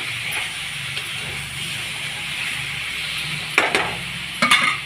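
Taro and brinjal sizzle in frying masala under a constant hiss, while a spoon stirs and scrapes the pan in a few louder bursts toward the end.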